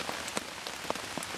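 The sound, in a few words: rain falling on a tarp while wild camping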